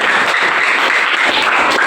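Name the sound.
hand clapping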